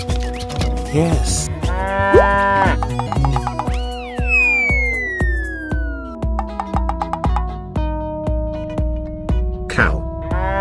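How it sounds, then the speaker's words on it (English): A toy zoo animal for babies plays a synthetic cow moo among a bright electronic jingle of beeps, rising tones and steady rhythmic beats, with repeated pulses running underneath. "Cow."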